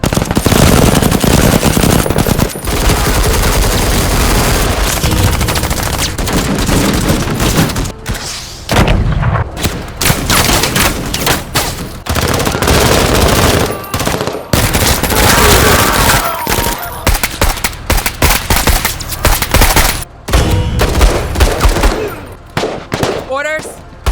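Sustained bursts of machine gun fire in the tactics video game MENACE rattle almost continuously, with rapid shots, heavy booms and brief pauses, loud and close throughout.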